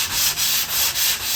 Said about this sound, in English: doing some sanding